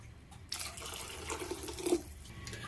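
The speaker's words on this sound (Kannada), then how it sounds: "ಈಗ ಯಾವ ಅದಕ್ಕೆ ಬೇಕೋ ನೋಡಿಕೊಂಡು ನೀರು ಹಾಕ್ಕೊಳ್ಳೋಣ" Water pours into a pot of moong dal kattu saaru in a steady, moderately faint splashing stream lasting a couple of seconds, with a slight gurgle near the end.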